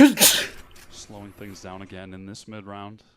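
A commentator gives a single sharp sneeze during a live Valorant esports broadcast, then goes straight back to calm commentary.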